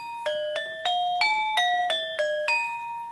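Metallic gamelan keys of a Balinese pelegongan ensemble struck one after another, about eight clear ringing notes in an even stepped rhythm, each sustaining bright overtones, close and moderately loud with no talking.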